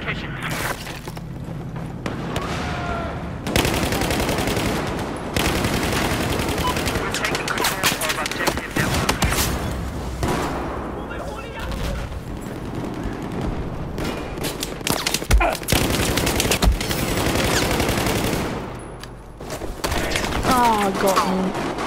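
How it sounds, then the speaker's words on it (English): Automatic AUG rifle fire in Battlefield 4 on PS4, rapid bursts repeating throughout amid explosions and busy battlefield noise, with someone talking over the action. "The AUG is quite a nice gun. It shoots fast, quite accurate."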